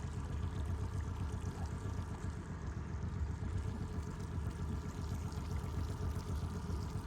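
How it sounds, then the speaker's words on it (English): An outboard motor drones steadily as a boat runs along the Old Pee Dee River, a low, even rumble with light water wash and no voices. "Motor's still running."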